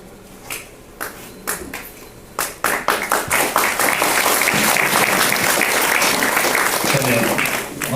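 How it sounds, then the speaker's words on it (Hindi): Audience applause in a hall for a 61-year-old speaker from Patna on stage, starting as a few scattered claps, then swelling into steady, loud clapping from the whole crowd. "इसीलिए ताली आप लोगों ने बजाई"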